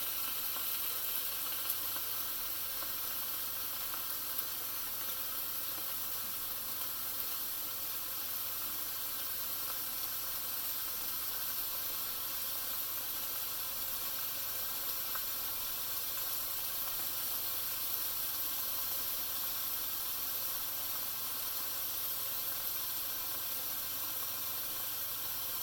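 Pot roast browning in a hot pan for a Mississippi pot roast, giving a steady, even sizzle and hiss that runs without a break for the whole stretch, close and moderately loud, with no talking.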